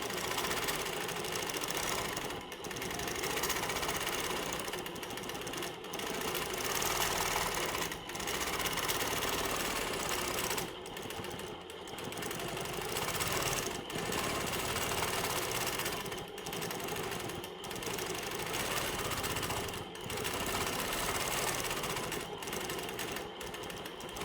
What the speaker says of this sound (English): now I'm going to start quilting the inside of my circle